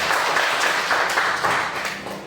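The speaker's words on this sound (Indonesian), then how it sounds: "Tepuk tangan untuk kita semua." Audience applause at an Indonesian teacher training session on positive school culture, a steady dense wash of clapping filling the whole stretch and tapering slightly at the end, with no talk over it.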